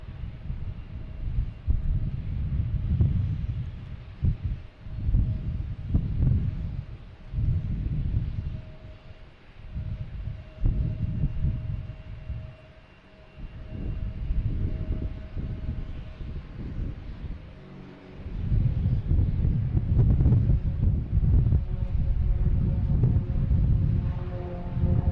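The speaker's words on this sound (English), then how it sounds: "Wind is gusting" Gusting wind at Boston Logan Airport buffets the microphone in rough, uneven surges, loud and close, with a faint steady hum underneath and no speech.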